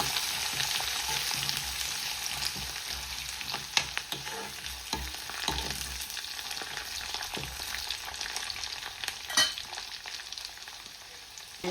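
Ingredients including ginger sizzle and fry in a pan while being stirred for restaurant-style sambar, a steady crackling hiss broken by scraping stirs and occasional clinks, close and alone.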